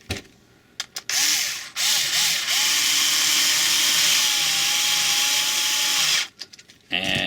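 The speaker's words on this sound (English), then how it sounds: "Go ahead and drop your first screw in there." A power drill drives a screw into a 3D-printed LED fog light part for a Subaru, with a few short trigger blips, then one loud, close, sustained whine lasting several seconds before stopping.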